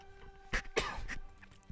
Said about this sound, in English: Excuse me, random cough.